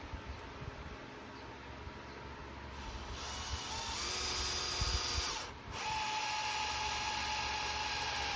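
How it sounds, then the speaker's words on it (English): A power drill bores into a 3D printed part for a Yikong YK41011 rear bumper, its whine rising in pitch and load for several seconds, briefly stopping, then spinning again close by. "when you're drilling into 3D stuff, you don't want to go too deep into it"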